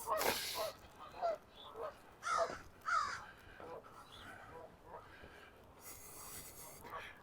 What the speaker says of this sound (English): A lot of crows around this morning.